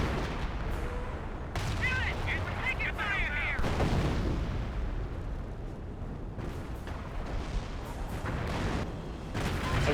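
A double artillery barrage in Company of Heroes 1 pounds the battlefield, with repeated rumbling booms and crackling blasts layered over continuous battle noise, while a commentator talks throughout.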